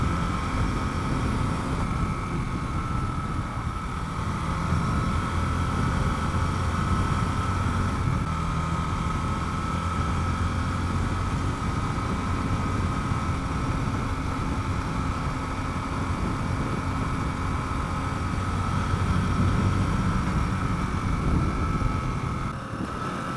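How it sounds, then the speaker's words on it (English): A Mash TT40 cafe racer motorcycle with a 125-class engine runs steadily for over twenty seconds, its muffled exhaust note a continuous close mid-pitched drone with slight shifts in revs. "the exhaust note is large 125, but still muffled a bit."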